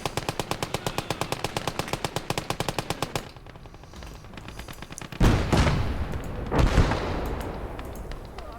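Video game battle gunfire in Motherland: a rapid, regular machine-gun burst of about twenty shots for three seconds, a quieter lull, then two heavy booming explosions close by.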